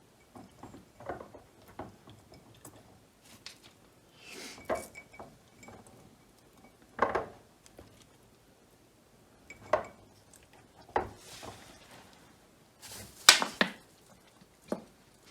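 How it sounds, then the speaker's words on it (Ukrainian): Pieces of marinated pike and half-rings of onion are layered into a glass jar. Soft thuds and rustles come with scattered bright clinks of glass, in irregular bursts separated by quiet pauses. "Різали цибульку півкольцями і все це накладаємо шарами в баночку."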